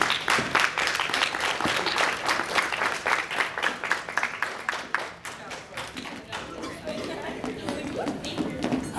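An audience claps at a candle lighting ceremony, close rhythmic applause that gradually thins and fades, with chatter and a voice heard underneath.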